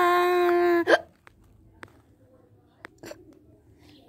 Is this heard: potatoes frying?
no